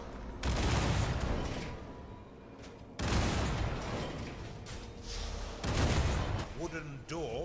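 Cannon traps firing in the War for the Overworld dungeon strategy game, dense booming volleys in three long bursts with brief gaps, loud and continuous, with a game voice briefly at the end.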